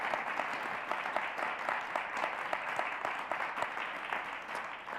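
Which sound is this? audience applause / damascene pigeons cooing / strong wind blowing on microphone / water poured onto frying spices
audience applause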